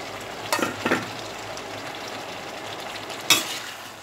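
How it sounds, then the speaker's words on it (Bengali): Spice paste fries on medium heat in a pan, giving a steady low sizzle with a few sharp scraping stirs: two close together early on and another near the end. "আমি মিডিয়াম আঁচে রেখে মশলাটা কষাচ্ছি"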